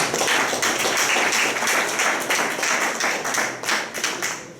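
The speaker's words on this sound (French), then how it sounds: "Je vous demande d'applaudir." Audience at a traditional colloquium gathering applauds steadily, a dense wash of many hands clapping at close range with no talk over it.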